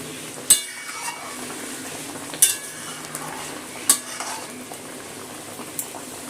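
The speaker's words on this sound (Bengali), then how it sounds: "ভালো করে মিশিয়ে নিলাম ডালের সাথে।" A spoon stirring jute leaves into dal in a pot, with three distinct metallic scrapes against the pot rim among soft, wet rustling and a faint simmer, no voices.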